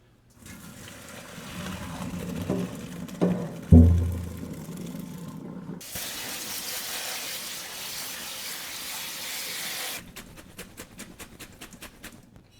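Cooked pasta rinsed in a kitchen sink for mac and cheese, a steady close rush of running tap water with a few clanks and splashes early, then a brighter gushing stretch before the flow tapers off.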